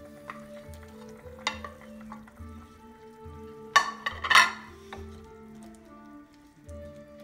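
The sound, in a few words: potatoes added to Rohan stew cooking in a pot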